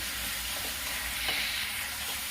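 Tomatoes frying in a pan for a Gurdwara langar-style urad dal, a steady loud sizzle with a brief scrape of stirring midway, close and continuous.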